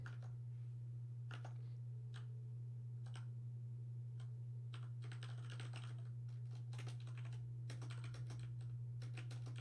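Light typing on a computer keyboard, scattered clicks and quick bursts of keystrokes over a steady low electrical hum, fairly faint and with no talking.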